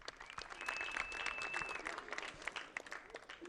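Scattered clapping from a small audience at a golf tournament's final-round presentation, fairly faint and rather thin, lasting a few seconds with a steady patter.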